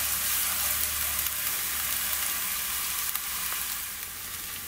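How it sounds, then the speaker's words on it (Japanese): Minced onion stir-fries in extra virgin olive oil with chili in a home kitchen, a steady close hiss and crackle of sizzling that eases slightly toward the end, with no talking. "でこれで全体に透き通るまでちょっと炒めます"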